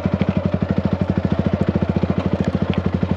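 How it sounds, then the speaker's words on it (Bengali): A motorcycle engine runs with the clutch held in, giving a close, fast and regular pulsing thump that stays even and steady throughout. "এরকম ক্লাচ ধরে সাউন্ডটা বেশি হবে"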